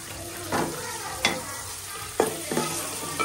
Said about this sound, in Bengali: হেসি শাক বাগার দেবো।